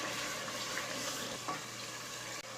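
Ginger and green chili dropped into masala frying in a pan for bhuna chicken, giving a steady close sizzle and crackle throughout, with faint stirring scrapes and no voices.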